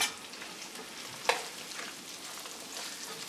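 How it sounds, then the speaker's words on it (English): Potatoes sizzling and crackling in a hot frying pan, a steady frying hiss with one sharp clatter partway through. "let's go ahead and add these potatoes. This will sizzle up a bit."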